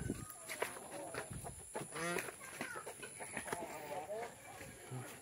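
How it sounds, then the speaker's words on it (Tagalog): A crossbreed rooster (Iron Simani and Black Australorp) crows in bursts with clucking hens around it, set against steady background noise and a constant high electrical whine. "Yung barakong manok natin, crossbreed ng Iron Simani at ng Black Astrolorp."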